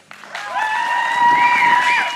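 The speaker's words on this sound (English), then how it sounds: "please give a warm round of applause to Michael McNamara." An audience applauds to welcome performer Michael McNamara on stage, a broad wash of clapping rising quickly and holding steady, with a bright sustained tone ringing over it.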